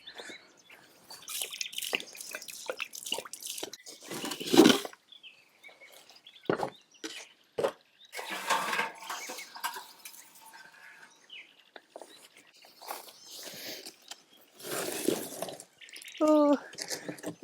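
Water drips after heavy rain around a homestead, sparse quiet splats and patters scattered irregularly, close and faint, with brief pauses between bursts and no one speaking.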